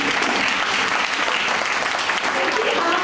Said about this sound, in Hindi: प्लीज तालियों बजाने में कंजूसी ना करें।